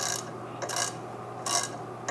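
Ratchet wrench tightening a 7/16 nut to clamp around a tube on a 350 engine, giving short bursts of quick clicking in a few separate strokes, fairly close and moderately loud over steady background hum.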